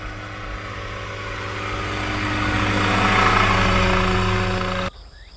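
An unmanned agricultural crop-spraying helicopter flies overhead with a steady, loud rotor drone and engine whine that swells over several seconds, then cuts off abruptly.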